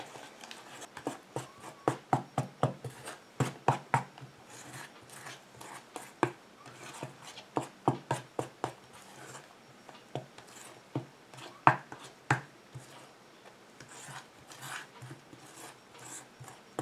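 Stirring homemade solid men's shampoo ingredients with shikakai and provitamin B5 in a bowl, a series of close, rhythmic scraping and tapping strokes in bursts, pausing briefly and resuming, with no talk.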